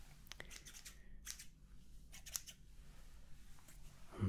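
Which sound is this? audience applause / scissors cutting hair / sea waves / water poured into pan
scissors cutting hair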